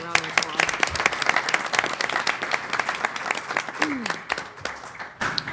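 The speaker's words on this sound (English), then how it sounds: "I think we should give them another round of applause." An audience at a board of education meeting claps steadily in a sustained round of applause, dense and close, with a few voices under the clapping.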